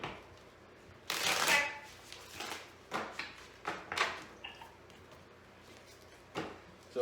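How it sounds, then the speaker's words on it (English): Tarot cards being shuffled by hand, a loud riffling burst followed by a series of shorter rhythmic slaps and flicks, close and quiet-roomed, with no talking. "while I'm shuffling these cards"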